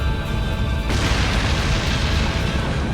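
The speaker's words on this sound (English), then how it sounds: "Cool guys don't look at explosions." A video game explosion in Like a Dragon: Infinite Wealth hits as a sudden loud blast, followed by a dense rumbling wash of noise that carries on to the end.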